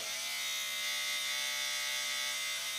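An electric beard trimmer buzzes steadily and close as it trims the moustache line around the lip, a constant motor whine with no talk.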